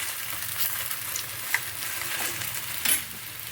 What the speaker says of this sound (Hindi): सरसों के तेल में इसको धीमी आंच में पकाना है